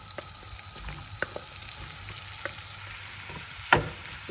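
Potatoes frying in melted butter in a nonstick pan for rösti, a soft steady sizzle with a few light clicks of a utensil against the pan and one sharper tap near the end, no voices.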